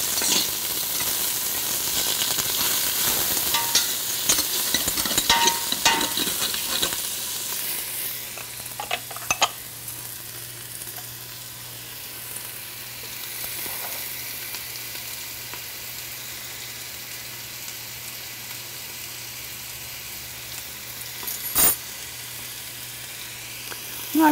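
Chicken and finely chopped ingredients sizzle in hot oil in a pan, a steady close frying hiss that is louder at first with stirring clatter, then settles into a softer continuous sizzle with an occasional sharp scrape.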